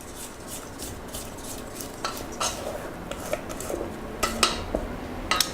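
Donut batter scraped down inside a bowl, a soft close scraping with light clinks of utensil against the bowl, louder strokes toward the end, no talk.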